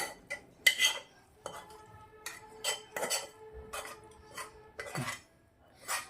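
A spoon stirs boiled Maggi noodles mixed with turmeric and salt in a bowl, making a series of close, crisp clinks and scrapes in an irregular rhythm.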